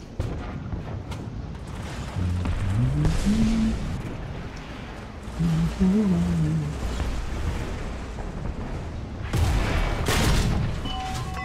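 Loud gunfire and booming explosions in the War Thunder combat video game, irregular bursts over a dense rumbling battle background, with brief whistling tones.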